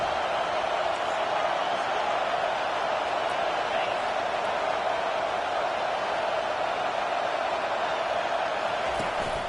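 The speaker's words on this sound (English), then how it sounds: "Decibels rising as the crowd gets behind this defense on third down" A football stadium crowd roaring steadily behind the defense on a third-down play, a dense, unbroken wall of cheering noise with no talk heard in it.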